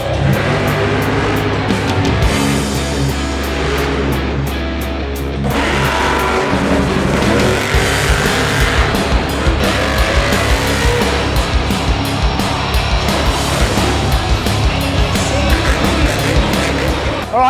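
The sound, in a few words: monster trucks racing and jumping at a Monster Jam show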